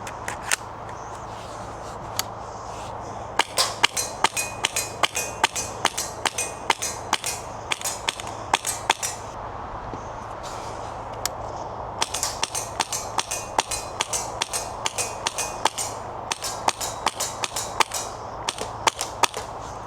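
A Wolverine MTW Billet Unleashed HPA airsoft rifle fires BBs in sharp, close, snappy shots, mostly rapid single pops in steady runs with a brief pause midway, over faint background hiss.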